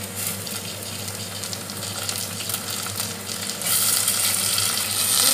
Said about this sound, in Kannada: ಸ್ವಲ್ಪ ಮಿಕ್ಸ್ ಮಾಡ್ತದೆ, ಕಜ್ಜಿ ಮಸಾಲೆ ತೋಡು ಅದು ಮಿಕ್ಸ್ ಆಗ್ತದೆ, ಮತ್ತು ಸ್ವಲ್ಪ ಫ್ರೈ ಮಾಡ್ತದೆ